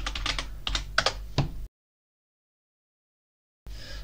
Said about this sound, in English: And type in the password.